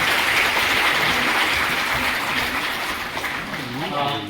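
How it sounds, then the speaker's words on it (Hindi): At a public free sewing machine distribution event for women, a crowd claps steadily while a voice talks over the applause. "इनके लिए जोरदार तालियां बजाइए।"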